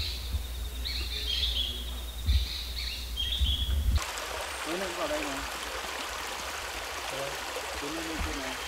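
A forest stream in Bidoup Núi Bà, Vietnam, flows over rocks as a steady broadband rush, preceded by a few seconds of bird chirps before the water takes over and continues evenly.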